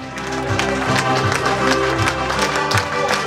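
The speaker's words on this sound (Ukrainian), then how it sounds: "Оплески для наших дівчат." Sustained applause for the girls rings through a hall at a celebration led by a master of ceremonies, a dense, steady clapping from the gathered crowd that stays even and loud throughout.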